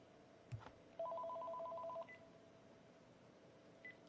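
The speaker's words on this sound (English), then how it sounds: "Dial tone." A telephone sounds a steady two-tone signal for about a second, clear and fairly quiet, with brief beeps before and after in an otherwise hushed room.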